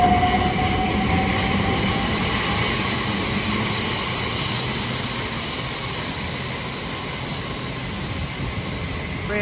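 Class 387 and Class 800 electric trains departing a London terminus, a continuous loud rumble of wheels on track with high whining tones and brief wheel squeal, steady throughout.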